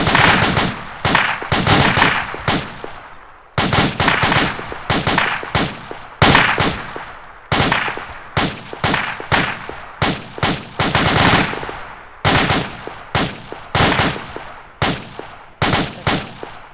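Rapid bursts of gunfire in an airsoft or tactical team game, firing in repeated volleys of sharp shots with brief pauses between, loud and close, with no talk.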